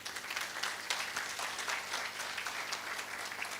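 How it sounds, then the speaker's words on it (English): An audience at a medical class finalists' dinner claps for a professor, dense sustained applause from a crowd filling the room at moderate loudness. "Wapi makofi ya professor?"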